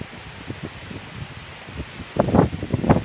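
Strong gusts from Typhoon Jolina in Torrijos buffet the microphone and rustle nearby foliage, building into louder, rougher blasts toward the end.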